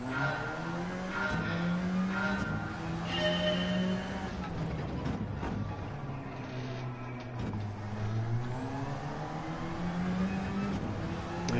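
Race car engines in the Gran Turismo 7 online racing game, a continuous droning rev that climbs and drops with gear shifts, with tyre noise and other cars close around, steady and moderately loud throughout.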